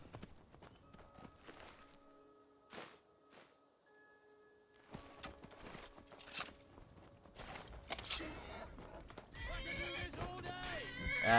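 Horses whinny loudly among clip-clopping hooves and scattered footsteps in Skyrim, with bursts of game action and brief talk in the background.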